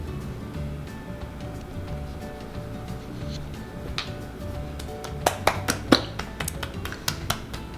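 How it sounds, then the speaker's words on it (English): A new bottle of barbecue sauce being opened near the mic: soft handling rustle, then a burst of sharp clicks and snaps from the cap and seal over a low background hum. "Opening up my new bottle because I love this."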